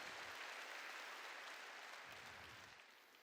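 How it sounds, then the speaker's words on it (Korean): Congregation applauding during a church sermon, a broad steady wash of many hands clapping at a moderate distance, gradually tapering off toward the end with no voices over it. "박수로 하나님께 영광 돌리기 바랍니다."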